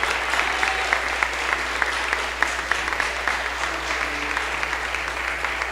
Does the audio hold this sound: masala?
no